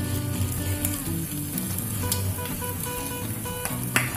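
Tomato sizzling in a frying pan with onions for egg chaat, a continuous close sizzle with light crackles, with a faint tonal hum beneath it.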